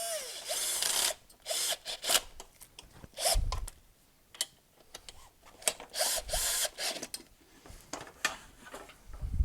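Screws being tightened while assembling a Nevi height-adjustable table: repeated short bursts of ratcheting, whirring tool noise separated by brief pauses, fairly close and uneven in rhythm.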